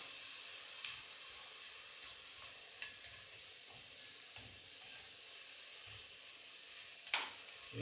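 Onion and garlic sizzle steadily in a thick-bottomed pan, giving a continuous bright hiss with occasional soft clicks and scrapes from stirring. No one speaks.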